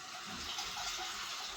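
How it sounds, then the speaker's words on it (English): Water pouring from a hose to fill a container at a pigpen, a steady close gushing splash heard alone. "Get the water filled up with the hose here."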